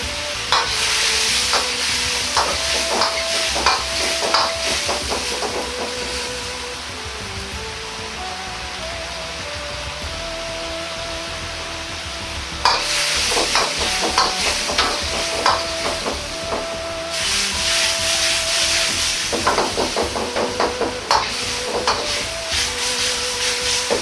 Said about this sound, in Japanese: 大根に味が染みるようにしばらく煮ます。